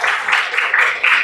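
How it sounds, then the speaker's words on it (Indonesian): Classroom applause for a student, a short burst of soft, blurred clapping from a group of pupils, fairly close and continuous, with a few surges in intensity. "kita beri tepuk tangan dulu untuk Mutia."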